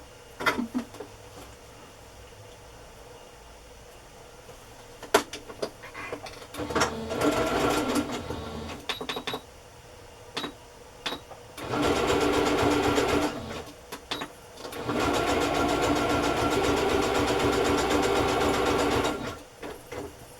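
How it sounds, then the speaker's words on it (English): A sewing machine running a zigzag stitch, with short bursts of whirring at first, then two long steady runs of rapid mechanical stitching, close and clear with no talking. "You're going to hear me sewing, but you won't see me. I'm using a zigzag stitch."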